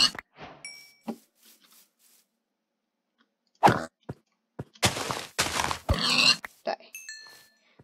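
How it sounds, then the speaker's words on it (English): Pigs in the video game Minecraft give short, scattered grunts and crunchy snorts in bursts, separated by near silence, fairly quiet overall with no speech. "I like these pigs better."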